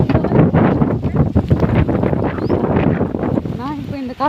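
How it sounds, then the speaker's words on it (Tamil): Strong wind buffets the microphone as a loud, steady roar throughout, with a short run of chirping or whistling near the end. "காற்று ரொம்ப அடிக்குது."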